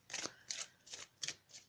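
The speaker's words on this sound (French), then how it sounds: "On va tirer maintenant une carte des maîtres ascensionnés." Oracle cards being shuffled and drawn from a deck, four or five quick papery riffling swishes in an uneven rhythm, close and quiet with no talking.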